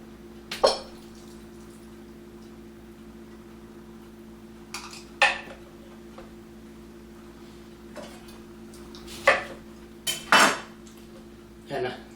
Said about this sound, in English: my handy dandy lemon squeezer